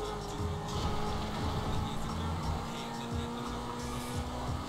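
A car is driven in Grand Theft Auto V, giving a fairly quiet, continuous engine hum with rising and falling revs and some tyre noise, without speech.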